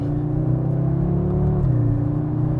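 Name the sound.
Audi S3 prototype car driving on the road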